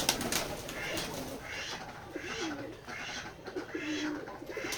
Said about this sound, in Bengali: এই যে হচ্ছে আমাদের কবুতরের খামার।